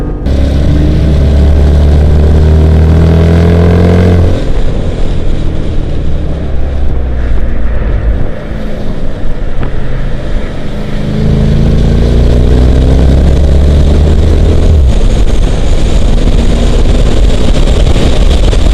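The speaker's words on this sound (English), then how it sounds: "Listen to the sound of that 470 horsepower SRT." A 470-horsepower 2014 Jeep Grand Cherokee SRT driven flat out on the Formula 1 track in Austin, Texas: a loud, full engine roar climbing through the revs, easing and shifting before rising again.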